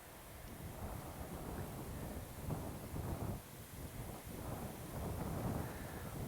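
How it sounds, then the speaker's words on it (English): Wind gusts buffet the microphone on an open hilltop on the South Downs, a steady rough rumble that swells and eases in waves and continues without letup. "Wind's picking up, but still no droplets."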